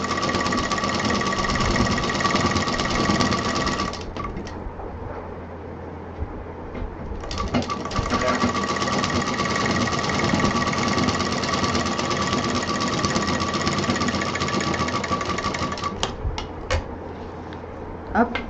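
A sewing machine stitches a zip onto a fabric tote bag in two sustained whirring runs, the first about four seconds and the second longer, separated by a short pause.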